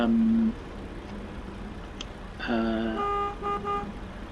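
Horn of a Western Star 5700 XE truck in American Truck Simulator: a short low blast, then a second longer multi-tone honk that pulses briefly, moderately loud and close.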